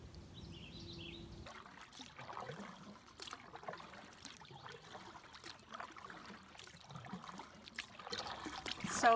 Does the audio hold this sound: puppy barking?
no